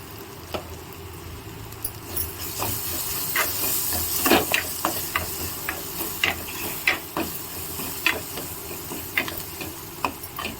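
Frying onions sizzle and hiss in a pan as turmeric is stirred in, with steady crackle broken by repeated sharp scraping clicks of a spoon against the vessel, close and fairly quiet.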